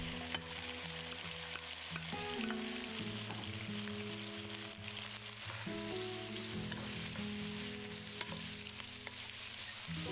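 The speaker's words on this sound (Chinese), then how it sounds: "再把蒜片加进来翻炒一下， 再把茄子加进来" Garlic slices and eggplant stir-fry in a hot wok for a braised minced-pork eggplant dish, with a constant sizzle and intermittent scraping and tossing from the spatula and no talk.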